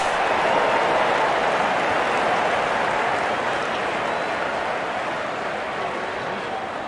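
Stadium crowd noise in the Real Cricket video game during a New Zealand versus Pakistan T20 match: a broad, continuous roar of cheering and applause that fades slightly over several seconds.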